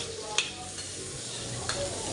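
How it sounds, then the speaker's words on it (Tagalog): Onions and garlic sautéing in hot oil, a faint steady sizzle with a couple of soft stirring scrapes and clicks, close and alone. "Isunod natin ang mantika at igisa na natin ang ating mahiwagang sibuyas at bawang."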